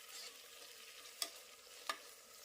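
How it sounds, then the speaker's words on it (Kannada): Chopped tomatoes fry in a pan for a Karnataka tomato bath breakfast, a steady soft sizzle with two sharp stirring scrapes of a spoon, close and quiet, no voices. "ಫ್ರೈ ಮಾಡ್ಕೊಳ್ಳೋಣ ಟೊಮೊಟೊನ."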